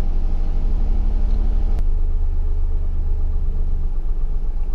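A car engine idles steadily after a cold start, its low, even rumble continuous and close, with one brief click partway through and the revs settled down to around 1000 rpm.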